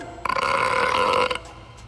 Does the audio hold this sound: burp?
yes